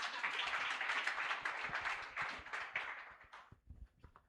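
Audience at a hospital competition award ceremony applauding, a dense burst of clapping that thins into a few scattered claps and dies away, fairly faint and distant.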